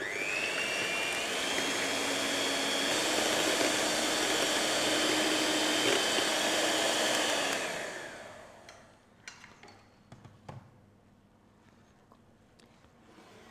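Liquid ingredients and oil being beaten for scones or muffins, most likely with an electric mixer, which gives a loud, steady whirring for about eight seconds. It then winds down and stops, leaving a few faint clinks.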